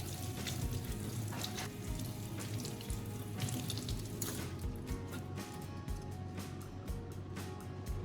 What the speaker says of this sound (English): Rinse them well under running water to remove any dirt